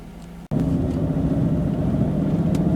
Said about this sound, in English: So the engine's really cold, I've only just started it up, but it's really smooth